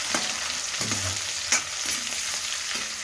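Ginger and garlic fry in oil for jowar upma, a continuous close sizzle broken by rhythmic scraping and tapping of a stirring spoon against the pan.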